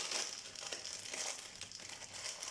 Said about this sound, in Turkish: noodle'ımızı açıyoruz